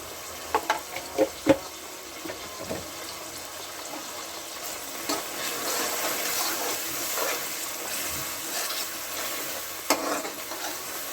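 Turmeric frying on low heat in a pan while being stirred for coriander rice, giving a soft steady sizzle with scraping spoon strokes and a few sharper clinks near the start.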